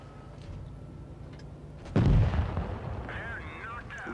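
A single loud, close tank cannon blast in the World of Tanks Blitz game, an E75 firing at an E100 or IS-7, bursts over steady battle ambience, then trails into a rumbling decay with faint metallic ringing.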